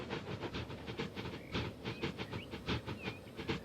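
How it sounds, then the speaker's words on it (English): A train rumbles past on the rail line near Manchester, a steady clattering roll with rhythmic wheel beats and faint squealing tones, moderately loud throughout with no talking. "oh, hear a train"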